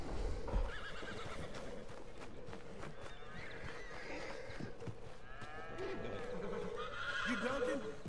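A horse in Red Dead Redemption 2 neighs and whinnies amid clip-clopping hooves and other farm livestock sounds, with game ambience throughout and people talking now and then.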